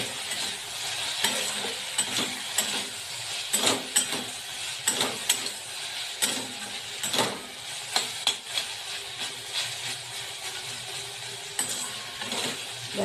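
Masala for kadai paneer sizzles and fries in a pan, with soft continuous hiss broken by frequent clinks and scrapes of a spoon stirring against the metal; no voices.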